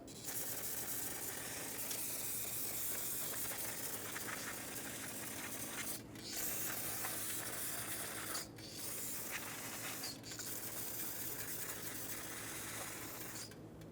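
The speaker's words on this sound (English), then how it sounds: "Using brake parts cleaner, clean all of the drum area." Brake parts cleaner sprays in a steady, continuous hiss over a brake drum area on a 2011-2014 Hyundai Sonata during parking brake shoe replacement. The spray sounds close and loud, broken by a few brief pauses.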